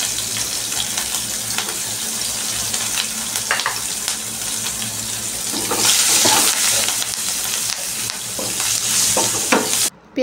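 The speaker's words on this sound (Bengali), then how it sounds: "সুন্দর করে মাছগুলোকে আমি উল্টে পাল্টে একটু লাল লাল করে ভেজে নিচ্ছি।" Pangas fish frying in a pan with a steady close sizzle, broken by scraping and clattering bursts as the pieces are turned over, no voices.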